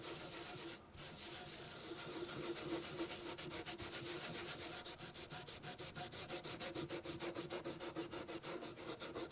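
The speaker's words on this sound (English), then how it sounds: "New Scotch-Brite pad. I'm going to go after this." Fast, rhythmic scrubbing of a Scotch-Brite pad over oven-cleaner-coated aluminum on a Mercedes 300SEL 6.3, dense abrasive strokes that settle into an even back-and-forth beat, close and continuous.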